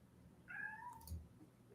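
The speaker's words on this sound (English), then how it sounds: "I hear Kitty. Yeah, she wants out" A house cat meows once, a short rising-and-falling call heard fairly close in a quiet room, with a faint low thump right after and no talk.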